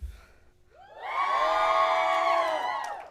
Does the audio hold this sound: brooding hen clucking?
no